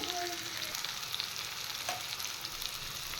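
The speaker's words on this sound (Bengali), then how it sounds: "এবার আমি পেস্ট করে রাখা মশলা দিয়ে দেব" Spice paste of onion and garlic going into vegetables already sautéed in oil, sizzling steadily and close up, with a brief stir partway through, for a shrimp dish.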